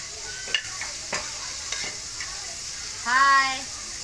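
Egg bhurji is stirred in a pan over a wood-fired chulha, with soft sizzling under scattered scraping clicks of the spoon. A brief tonal voice-like sound rises near the end.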